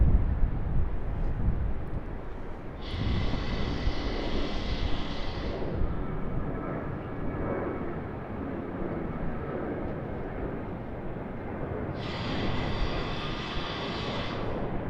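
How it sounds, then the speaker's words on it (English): Aircraft at Sydney Airport roaring steadily and loudly throughout, engine noise constant with a brighter whine swelling near the start and again toward the end, as planes pass nearby. "one aircraft over here, and another aircraft over here."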